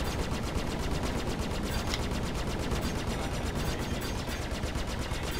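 Ship guns in the space game Star Citizen fire in a rapid, continuous automatic burst, loud and steady throughout with no talking.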